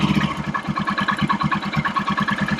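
A Royal Enfield Himalayan motorcycle engine runs after repair, a loud, close single-cylinder idle with a steady even thumping pulse throughout.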